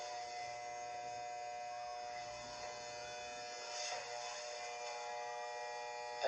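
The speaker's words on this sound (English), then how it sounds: "Put on your clipper. And then just edge." An electric hair clipper with the guard removed buzzes quietly and steadily while edging hair, a thin constant whine with faint handling noise, fairly soft and with no talking.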